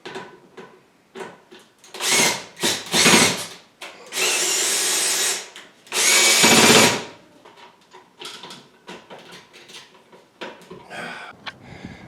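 A power drill whines on a roof in several loud, sustained bursts of a few seconds each, separated by quieter scraping and handling noises.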